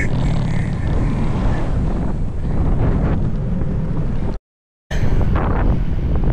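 Strong coastal wind buffets the microphone of a motorcycle rider on the road between Pasuquin and Vigan in North Luzon, a loud continuous rumbling roar that cuts out briefly near the end before returning.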